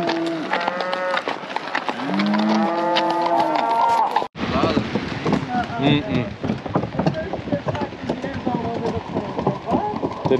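Cattle moo loudly and close by, with several drawn-out calls early on, while being herded; someone shouts at the cows over shuffling and clattering movement.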